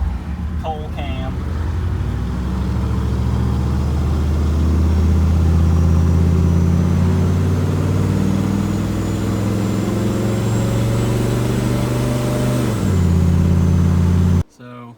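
A 6.5 diesel OBS Suburban engine rumbles and revs loudly for a long stretch, dropping off near the end, with a person talking over it.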